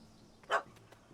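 A puppy gives a single short, sharp bark in the video game The Witcher 3: Hearts of Stone, fairly close against a quiet background.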